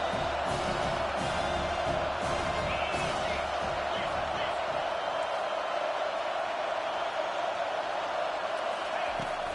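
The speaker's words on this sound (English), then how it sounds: "Here comes this home crowd as the defense tries to get off the field on third down." A home crowd at a college football game roars steadily as a loud, dense, continuous wash of cheering that lasts throughout while the defense faces third down.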